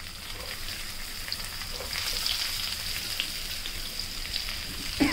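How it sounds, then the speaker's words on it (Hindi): Okra frying in hot oil with cumin over low heat, a soft, even crackling sizzle like light rain, with faint scattered pops and a small clatter at the end, quiet and free of speech. "और अब मैं डाल दूंगी हमारी ये भिंडी, आंच को धीमी कर देंगे ताकि भिंडी जले नहीं"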